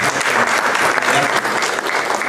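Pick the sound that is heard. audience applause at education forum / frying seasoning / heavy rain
audience applause at education forum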